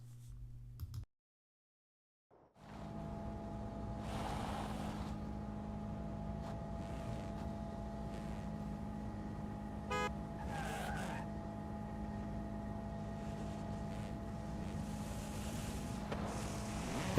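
A car pulls away in Forza Horizon 5's Eliminator mode: after a brief silence, a steady engine drone rises and holds, with faint tyre noise and small shifts in pitch, with no voices.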